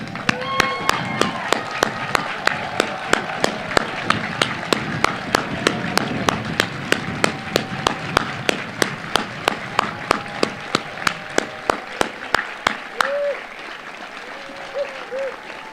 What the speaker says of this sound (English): How about a standing round of applause from all those present?